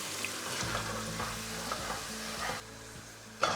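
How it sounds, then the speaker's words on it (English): Onion puree fries in a pan for a rajma curry, a close, steady sizzle with a low hum beneath, a few soft scrapes of stirring, and a sharper clatter near the end. "And now I'm going to add the puree of the onions"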